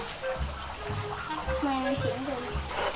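Water running from a tap during handwashing at home, a continuous splashing rush, with voices talking over it.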